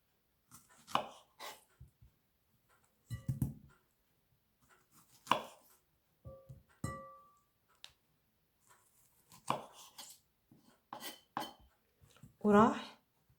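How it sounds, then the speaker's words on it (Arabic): Washed strawberries being cut with a knife: scattered, separate chops and taps on a board, with quiet pauses between the cuts and a few clinks of utensils. "راح نحكم الفراوله تاعي، راح نقطعها بهذا الشكل"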